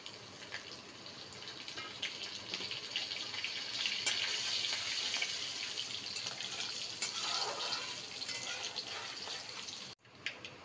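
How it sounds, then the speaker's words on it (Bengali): Whole spices crackling in hot oil left after frying paneer, a steady bright sizzle with tiny pops throughout, close and moderately loud, ending in a sudden brief cut; no talking. "ফোড়নটা আমার ফুটে উঠেছে"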